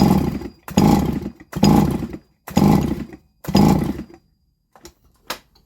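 A Solo 654 chainsaw with carburettor trouble revs in four short loud bursts of about a second each with gaps between, followed by a few faint sputters as the engine dies away.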